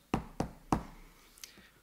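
Three sharp knocks on a door in quick succession, close and distinct, followed by a faint tap and quiet room tone.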